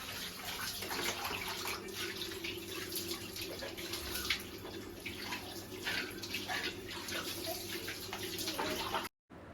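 Water splashes and pours steadily over a baby being bathed in a continuous wash, close and fairly quiet, with a brief silent gap near the end.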